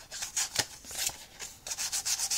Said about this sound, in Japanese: ただ、一回800番で